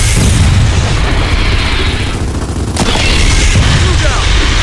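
Gunfire and heavy explosions in Gears of War 4 roar continuously, a loud layered barrage of booms and rattling shots with a brief dip midway before the din swells again.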